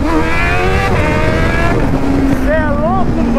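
A Suzuki SRAD 750 motorcycle with no mirrors is ridden on a wheelie, its engine loud and close, revving in rising and falling sweeps over wind buffeting.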